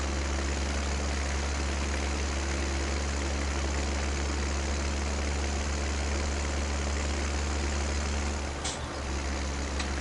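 Tractor engine in Farming Simulator 17, a steady low rumbling drone running close and continuous, with a brief hiss-like burst near the end.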